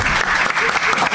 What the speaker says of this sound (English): No one else claps when I say that, so thank you.